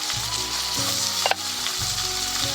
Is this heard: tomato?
yes